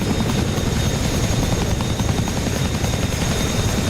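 A Chinook twin-rotor helicopter passes overhead in a combat zone in northeastern Afghanistan, giving a loud, steady, close rotor roar with dense low thumping that fills the whole stretch without a break.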